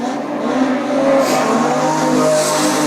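Production sedan race cars roar down the back straight on the final lap of a heat, a loud, steady engine drone with a few faint tyre squeals over it and no talk.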